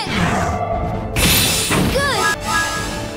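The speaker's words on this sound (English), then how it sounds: "let me just give you a sample of what combat sounds like this early in the game" Early-game battle sounds from the JRPG Eternal Sonata: a busy mix of swooshes, hits and crashing effects layered over background music, with a bright shattering burst near the middle and a voiced character cry.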